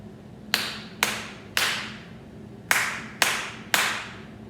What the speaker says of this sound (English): Sometimes my hands clapped a little quicker, and sometimes my hands clapped a little slower